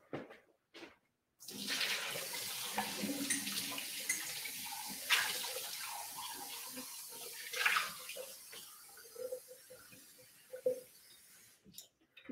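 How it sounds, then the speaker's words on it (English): Water runs steadily from a tap and overflows a basin while makeup brushes are rinsed, a continuous close splashing rush lasting most of the time with small surges and drips. "That water's overflowing."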